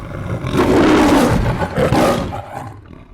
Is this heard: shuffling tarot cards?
no